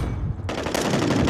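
Heavy automatic gunfire in a Call of Duty match rattles out in a dense, continuous burst, loud and close, with no talking over it.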